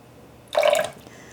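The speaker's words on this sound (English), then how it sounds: "So we use 180 grams of water." Water is poured briefly into a mixing container for a buffalo cauliflower recipe, a short close splashing gush lasting under half a second in a quiet kitchen.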